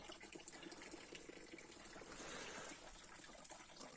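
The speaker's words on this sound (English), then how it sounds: "Quite some water is passing by" Water rushing past a micro hydro intake dam on a stream, a steady outdoor gush and splash that holds for several seconds, moderately loud with no voices.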